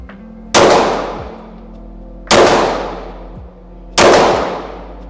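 A handgun fired single-handed at a range target, three loud sharp shots spaced about two seconds apart, each ringing and decaying over a steady low background hum; no talking.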